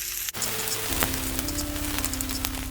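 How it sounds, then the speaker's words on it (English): Chopped curry leaves crackle and sizzle sharply in hot oil, starting as a sudden burst and settling into a continuous frying hiss with some stirring noise underneath. "And now we will add the curry leaves."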